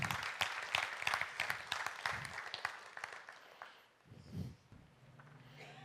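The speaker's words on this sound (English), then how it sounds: "A big round of applause, please." Audience at an audit workshop technical session applauding, a crisp burst of clapping that thins and fades, followed by quieter shuffling and a brief voice.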